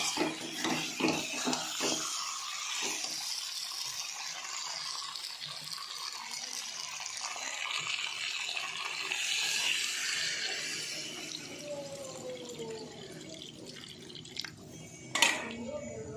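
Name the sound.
water poured into pot of cooking chicken curry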